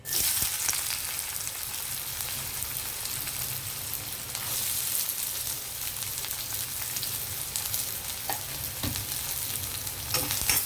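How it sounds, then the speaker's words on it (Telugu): Onions sizzle steadily in hot oil for a yellow cucumber and tomato curry, a dense, even crackle that stays loud and close for the whole stretch, with no voices over it. "ఆయిల్ హీట్ అయితే ఆనియన్ వేసేయడమే"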